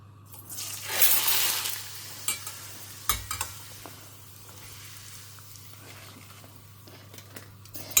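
Rice appalam fries in hot oil with a loud, hissing burst near the start, then sparse crackles and clicks over a low steady hum in a home kitchen.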